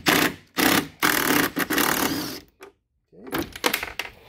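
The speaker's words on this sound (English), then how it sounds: "with that T30 bit, we're gonna take these four screws out that are holding the body." A power driver with a T30 bit whirs in repeated short bursts, separated by brief pauses, as it backs out the body screws on a Club Car Precedent golf cart. The bursts are close and moderately loud.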